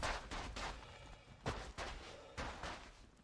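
Gunfire in the video game Star Citizen: several loud, sharp bursts spaced about a second apart over a continuous rumbling background, with no talk over it.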